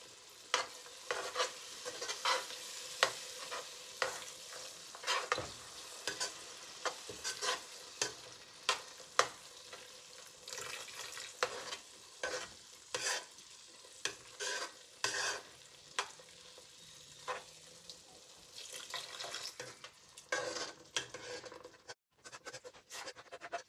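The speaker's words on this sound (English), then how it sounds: "add 2 cups of shrimp stock and slowly add it a little at a time, stirring constantly so it incorporates" Shrimp stock is stirred into a pan for shrimp étouffée, with a spoon scraping in quick, constant strokes over a low sizzle that stays close and fairly quiet, and no talk.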